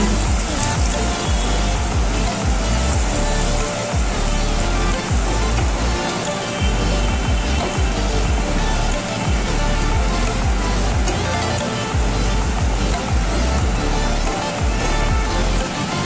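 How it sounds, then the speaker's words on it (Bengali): Loud, steady hiss and bubbling of water poured into fried spice paste in a pan for a Thakur Bari style ilish fish recipe, a continuous close-up sizzle lasting throughout. "মশলা কষানো হয়ে গেছে, এবার দিয়ে দিচ্ছি জল।"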